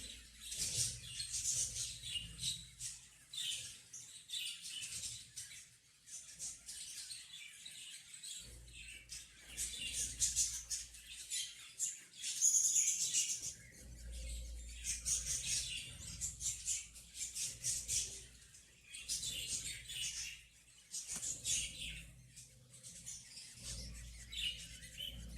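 Pet lovebird chicks chirping in a pot nest, a steady scatter of thin, high peeping calls running throughout with faint low rumbling handling noise beneath.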